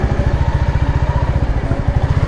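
A Royal Enfield Classic motorcycle engine idles close by, its rapid, even chugging pulses throbbing steadily throughout.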